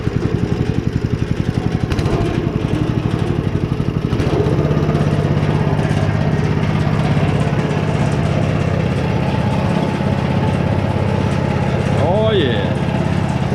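A salvaged concrete mixer's small engine runs steadily at low RPM with a rough, pulsing drone, while people talk over it throughout.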